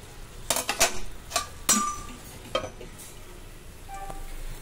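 Metal pot and lid clatter and clink in a quick cluster of sharp hits as a lid is set over a pot of gently boiling water, close by, followed by quieter bubbling.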